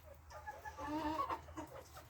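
Trabzon guguli chickens cluck softly at a distance, a low murmuring flock sound without distinct crowing.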